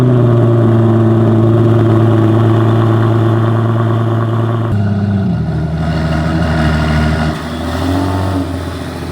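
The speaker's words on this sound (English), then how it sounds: "V12, twin turbo, bucket loads of torque, bucket loads of horsepower" A 690bhp Aston Martin Vantage with a twin-turbo V12 holds a loud, deep, steady idle close by, then the tone shifts and dips with small throttle changes.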